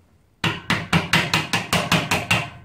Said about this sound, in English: Correct hammer.